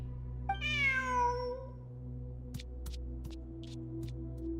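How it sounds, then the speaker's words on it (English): A video game cat in Genshin Impact gives one clear, drawn-out meow over a low steady hum, followed by a few soft scattered ticks. "Who's a good kitty?"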